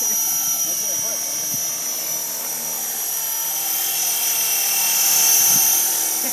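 A KDS 450 SV radio-controlled helicopter flies nearby with a steady, high-pitched whine that swells slightly toward the end, while people talk and laugh over it.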